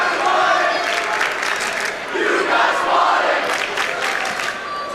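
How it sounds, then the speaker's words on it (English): Student sections at a girls' Division II regional semi-final basketball game cheer and chant back and forth, a loud, sustained crowd roar filling the gym with a voice talking over it. "Spirited student sections going back and forth for both sides here."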